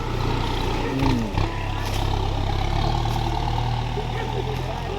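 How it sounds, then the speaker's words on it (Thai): A heavy tractor engine rumbles steadily nearby as it pushes landslide soil after southern Thailand floods, loud and continuous, with a brief shift in pitch early on and a voice speaking over it. "รถไถกำลังดันมาอยู่นะครับ"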